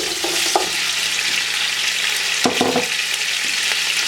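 Boiled mutton and green chillies fry in hot oil for a Shinwari mutton karahi, a dense, loud, continuous sizzle with a couple of brief scraping stirs partway through.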